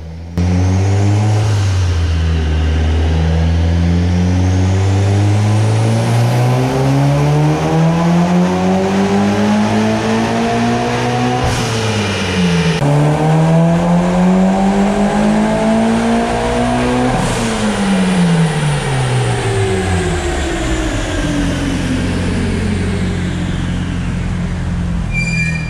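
A Mitsubishi Evo 8 with low original mileage, tuned with adjusted fuel, timing and knock settings, revs hard on a dyno: loud, close engine climbing steadily through gears in long rising pulls, with brief shifts and a final wind-down.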